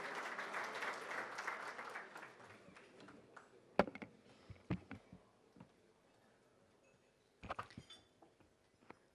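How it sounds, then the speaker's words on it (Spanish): Audience applause greets the mayor of Montevideo at a breakfast talk event, starting as dense, steady clapping that fades within a few seconds into scattered, isolated claps and taps. "con un fuerte aplauso recibimos a la intendenta de Montevideo, Ana Olivera."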